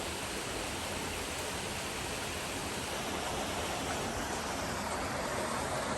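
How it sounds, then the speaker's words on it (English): A waterfall in a gorge on the Kekekabic Trail in the Boundary Waters roars steadily, a dense, even rush of falling water filling the scene without pause. "Beautiful waterfalls over here."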